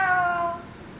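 A single cat meow sound effect, loud and close, with a clear tonal cry that fades out over about half a second and leaves quiet background noise.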